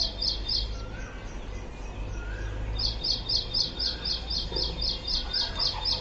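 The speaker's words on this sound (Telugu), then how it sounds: "ఇదేదో సౌండ్ వస్తుంది పక్షిది" Repeated bird calls ring out near a brick kiln, a burst of chirps early on and a longer run of rhythmic chirping in the second half, over steady low outdoor rumble.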